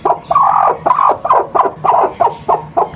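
Domestic hens with newly hatched chicks, close by, giving a run of about eight short, loud, rhythmic clucking or gobbling calls in steady succession, with no talk over them.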